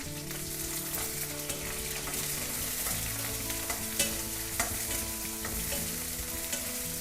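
Masala ingredients and onion fry in hot oil in a pan for masala puri, giving a close, steady sizzle with occasional sharp stirring scrapes and clicks throughout.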